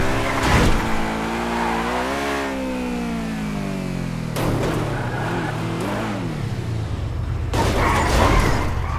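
Cars revving and accelerating hard in a GTA 5 drag race in Dubai, engine tones sweeping up and down through gear changes, loud and close, with several roaring bursts.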